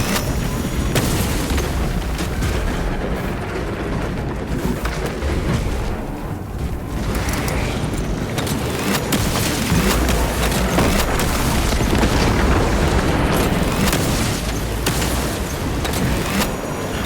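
A melter bomb detonates in the Warhammer 40k Space Marine 2 game, a heavy booming blast followed by rolling explosive crashes and gunfire-like bursts amid loud battle noise.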